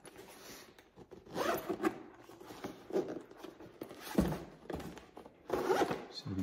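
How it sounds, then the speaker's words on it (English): Zippers on a door storage bag for a 2023 Can-Am Maverick Sport Max side-by-side are pulled open and shut several times, each a close, crisp rasping zip separated by brief pauses. "Seem to be pretty sturdy zippers."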